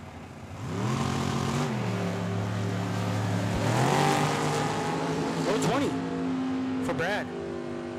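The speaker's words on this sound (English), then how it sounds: "Brad Hawk in the left-hand lane in the traditional Ford. And we got Jake Kelso on the right-hand side in his dragster." A traditional Ford Mustang in the left lane and a dragster in the right lane launch side by side at a drag strip, engines roaring loud and close with rising revs and shifting pitches across the run, under an announcer's talk.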